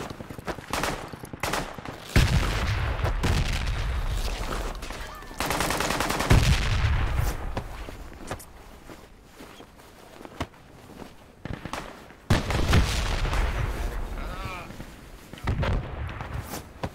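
Grenadier grenade blasts and rolling gunfire boom through a video game firefight, heavy explosions arriving in bursts with quieter gaps between, and a voice talking over parts of the din.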